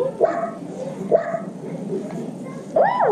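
A puppy in a Disney Junior video game gives a few short, high yips and whimpers spaced apart, ending with a rising whine, against a steady electronic background.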